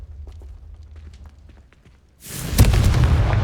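A sudden fiery blast of the Confringo spell in Hogwarts Legacy bursts in after quiet, muffled movement, then a loud crackling roar sustains to the end.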